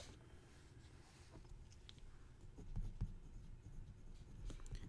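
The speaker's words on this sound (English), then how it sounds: "I'm just going to write the summation" Pen or pencil writing out a calculus summation on paper, soft continuous scratching with small taps and strokes, close and quiet, with no talking.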